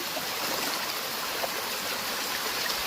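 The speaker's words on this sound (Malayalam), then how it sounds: "water is coming from the rice field" Water running in a small stream fed from a nearby rice field, a dense continuous rushing and gurgling close by, steady throughout with no voices.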